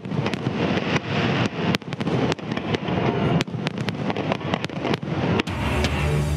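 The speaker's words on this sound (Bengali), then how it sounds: "আতশবাজির ছটায় যুক্তরাষ্ট্রের ২৪৫তম স্বাধীনতা দিবস উদযাপন" Fireworks at a US Independence Day celebration, a dense run of sharp bangs and crackling bursts in quick succession, loud and fairly close, with a rumbling tail as the barrage thins out at the end.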